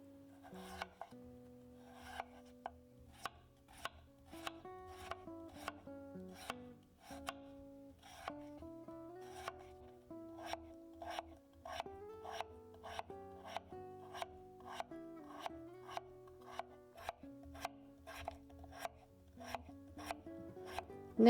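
Potatoes are sliced thinly by hand with a knife on a board, giving a long series of crisp, regular cutting strokes, quiet and close with no talking.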